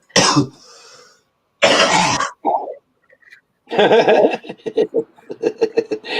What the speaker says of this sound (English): Yeah, I got a bit of a cough.